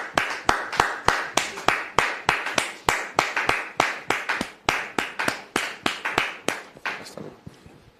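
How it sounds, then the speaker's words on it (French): A studio audience claps steadily to welcome a pastor onto a talk show set, the sharp hand claps coming in a brisk, fairly even rhythm and fading slightly toward the end. "Merci public de recevoir le pasteur en question sous vos applaudissements"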